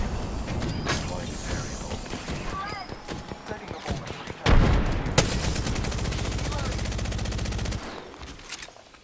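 Gunfire in the battle royale game Apex Legends: rapid automatic bursts and single shots from several weapons, loud and close, with a sustained heavy stream of fire in the second half and voice chatter mixed in.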